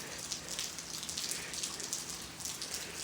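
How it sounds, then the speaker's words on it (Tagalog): Heavy rain drumming steadily, a dense constant patter with scattered louder drops, fairly faint and even throughout. "parang may flash flood sa ganitong kalakas ng ulan"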